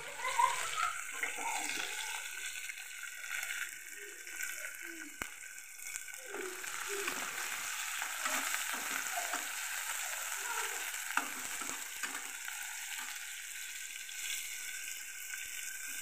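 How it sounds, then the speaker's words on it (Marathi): Chopped onion sautés in a pan after a mustard-seed, cumin, garlic and chilli tempering, a steady moderate sizzle with occasional stirring scrapes and soft pops throughout. "आता आपण कांदा परतून घेऊ"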